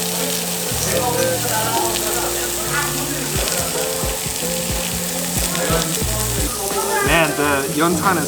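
Pork belly and other cuts sizzle over a glowing yeontan coal briquette grill at a Korean barbecue restaurant, a loud, close, continuous crackling fry beneath background music and faint chatter.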